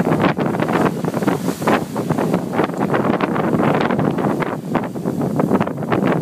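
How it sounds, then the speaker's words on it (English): Heavy spray and rushing wind sweep over a sailing boat's deck at sea en route from Lanzarote to Madeira, a big wave breaking across in a loud, continuous wash with bursts of water, buffeting wind noise on the microphone throughout. "we get quite a bit of spray across the deck"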